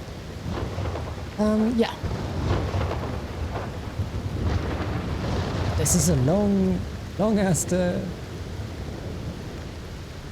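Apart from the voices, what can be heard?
thunderstorm with thunder and rain, added in editing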